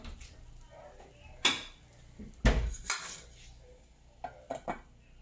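A lid set down over a cooking pan: a couple of close metallic clanks and rattles of cookware, with a sharper clatter in the middle and lighter taps toward the end, no talking.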